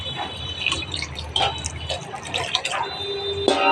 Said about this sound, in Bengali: চুলাটা জেলে দিয়ে এবার জল দিয়ে দিব।